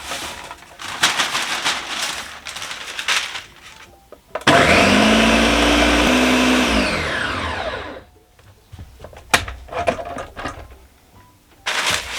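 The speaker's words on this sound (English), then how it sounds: "we're going to blend this up in our blender to give it a nice good powder" Kitchen blender grinding freeze-dried raw eggs into powder, a loud whirring burst of about three and a half seconds that rises slightly in pitch, with quieter handling clatter before and after.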